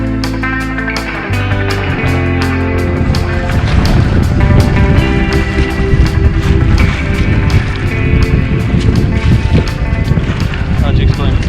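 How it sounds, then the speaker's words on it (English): Loud, continuous roar of wind and churning waves with splashing while paddling off the Baja coast, a voice talking over the rough, blustery noise throughout. "we're trying to paddle back to the boat through this wind and all the waves"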